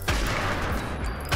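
Explosions in the video game NIMRODS, a quick cluster of loud bursty blasts with sharp onsets at the start and end of a dense crackling rumble, close and forceful.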